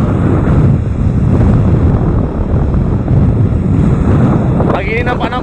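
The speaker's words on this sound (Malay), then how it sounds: "ini ombak kuat nih saudara" Strong wind and rough waves at sea off Kelantan, recorded near a small boat in extreme weather: a loud, continuous rush of gusting wind buffeting the microphone over churning surf, with a voice speaking near the end.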